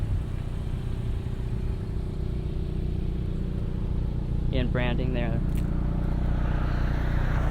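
Deep, rumbling engine idle of a 2022 Hyundai Kona N through large-diameter exhaust pipes, a throaty exhaust note, steady throughout, with a brief spoken phrase over it midway.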